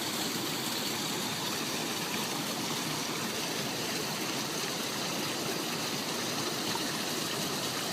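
Water pours steadily from a gallon Ziploc bag into a wide-mouth bottle, making a continuous rushing, splashing flow that stays even and close throughout.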